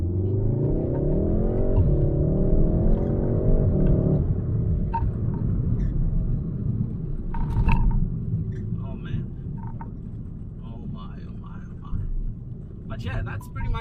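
A VW Golf 7 R drives on a damp road, its engine a steady low rumble with a brief rising rev early on, then fading to road and tyre noise with faint talk over it.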